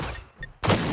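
An explosion in the video game Generation Zero: a brief burst of noise, a short quiet gap with a faint chime, then a loud broadband blast close up.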